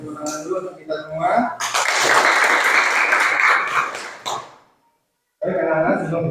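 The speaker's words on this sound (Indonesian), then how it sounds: "Kasih tepuk tangan dulu untuk kita semua." Schoolchildren clapping together in a classroom, a dense burst of applause lasting about three seconds before fading, with voices talking before and after.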